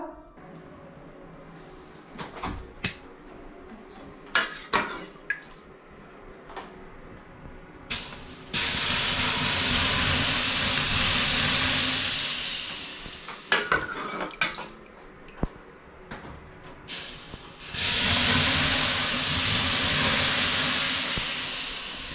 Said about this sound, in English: Oh, the steam again.